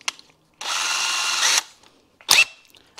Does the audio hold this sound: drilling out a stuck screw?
yes